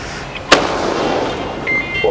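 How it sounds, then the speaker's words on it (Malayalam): A sky shot firecracker goes off with one sharp, loud bang overhead, followed by a brief fizzing hiss and thin whistling tones that fade out over the next second and a half. "ഈ ഒരു പടക്കം ഈ ഒരു മുകളിൽ പോയി പൊട്ടുന്ന സംഭവം മാത്രം നമുക്കൊന്ന് കത്തിച്ച് നോക്കാം."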